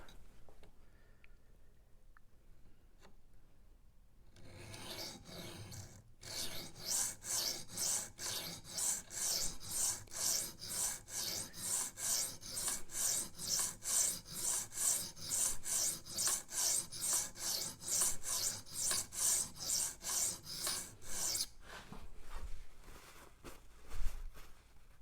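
Someone sharpens a Rough Ryder Half Hawk knife on a stone with a 3D-printed angle guide. After a quiet start come about thirty close, steady rasping strokes in an even back-and-forth rhythm, then a few soft knocks.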